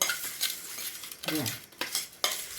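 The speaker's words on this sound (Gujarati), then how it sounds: "તે આપણે જે ડાય બનાવી છે ને એની અંદર તમારે આવી રીતે નારિયેળનું તેલ નાખી દેવાનું છે અને બરાબર મિક્સ કરી દેવાનું છે" A utensil mixes coconut oil into homemade hair dye in a bowl, giving a few close, soft clinks and wet scraping strokes at an uneven pace, with no talking.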